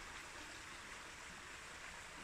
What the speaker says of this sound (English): I thought it would be too loud with the little overflow of the rocks there. It's a mini waterfall.